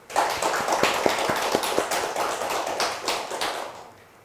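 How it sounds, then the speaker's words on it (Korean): Congregation in a church applauding together, a brisk burst of many hands clapping in a fairly steady rhythm that holds for several seconds before dying away. "우리 더욱 건강하시라고 박수 한번 해드립시다"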